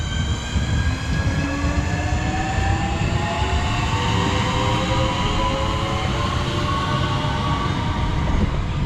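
A Class 465 electric train departs a station in Kent, with steady loud rumble and rising whining motor tones as it accelerates, close by and constant throughout with no talking.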